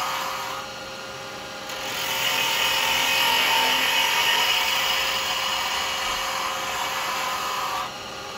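A carbide chisel cutting a spinning wooden nutcracker on a lathe, producing a steady, broad whooshing scrape with a constant motor whine, close and sustained throughout with no voices.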